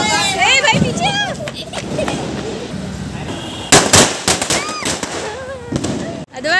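Diwali firecrackers and fireworks burst in several loud, sharp explosions, with crackling bangs clustered near the middle and end, while family members talk and shout excitedly over them at close range.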